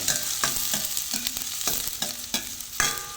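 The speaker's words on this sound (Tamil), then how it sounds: "கார்லிக் போட்டுட்டு ஆனியன் கொஞ்சம் போட்டு என்ன பண்ணணும்? நல்லா வணக்கணும்" Garlic and onion sauté in a hot pan with a bright, constant sizzle, broken every half second or so by quick spatula scrapes; close up, and no speech.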